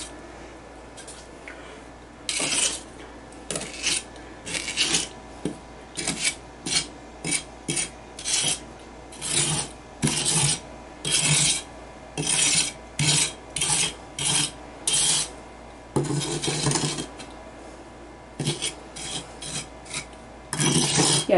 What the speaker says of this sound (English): when I come across somewhere I think it's too much, I can scrape it off with the trowel like that.